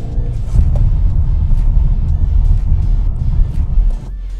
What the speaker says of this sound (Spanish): Pues aquí vamos con la prueba de frenada.